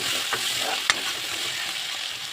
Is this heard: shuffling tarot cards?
no